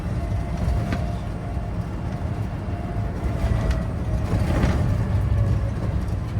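An E-Story electric classic car with automatic gearbox and power steering drives along a country road, a steady low rumble of tyres and road noise from inside the cabin, continuous and fairly loud with faint rattles.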